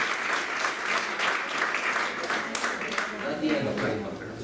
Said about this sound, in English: you can do a big clap because he has done a lot of